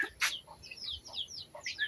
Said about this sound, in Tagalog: Doon ibang manok sa kanan.